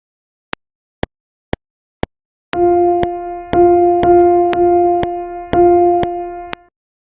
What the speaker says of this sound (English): you can create a simple rhythmic pattern made up of minims and crotchet